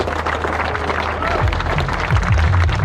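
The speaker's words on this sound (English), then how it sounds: "massive round of applause for me." A crowd of runners and spectrators gives a round of applause before the start of the Tewkesbury Half Marathon 2022, with continuous clapping mixed with cheering and nearby voices outdoors.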